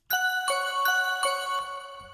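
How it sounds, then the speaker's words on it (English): A bright synth bell tone strikes in a steady repeating pattern, each ringing note overlapping the next, clean and close with no voices. "I used a bell kind of sound"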